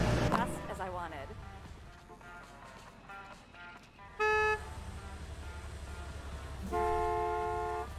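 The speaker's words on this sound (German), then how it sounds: "Warum auch immer die da gerade gehupt haben" Car horns honk in a Gas Station Simulator game, with short toots near the start and two longer sustained honks around the middle and end, over game background noise and music.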